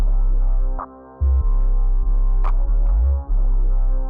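A sustained brassy trumpet tone plays over a heavy, droning low bass with a few bright percussive ticks in a hip-hop beat, dropping out briefly before returning, loud and continuous.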